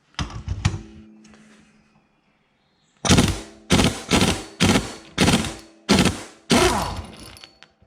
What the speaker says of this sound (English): I'm gonna use, I got it in the vise, I'm gonna use the impact.